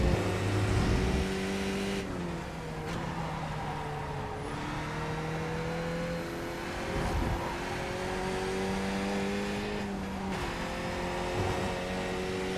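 A race car engine in a racing video game at VIR drones loudly and steadily, its pitch climbing and then dropping at several gear shifts, one of them a mistimed shift and reshift, with no voices.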